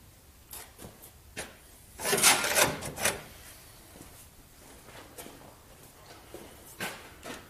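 Metal and plastic rubbing and scraping as a fuel rail is wiggled and pulled off a Jeep 4.0 engine, with a louder burst of scraping in the middle and scattered faint clicks around it, close up, with no talk.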